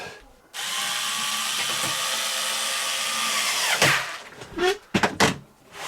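A screw is driven with a power drill into a small foot on an Amiga 3000T computer case, making a steady whirring buzz for several seconds, then stopping with a few close clunks and bumps.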